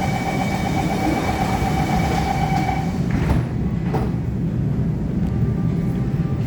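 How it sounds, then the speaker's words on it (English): An SBS Transit Downtown Line C951 train running underground, heard as a steady loud rumble of wheels and motors throughout, with a brief tonal whine early on that fades, then a couple of clattering bumps. "This is like my favorite types of trains."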